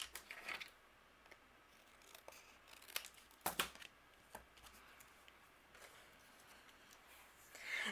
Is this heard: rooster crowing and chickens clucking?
no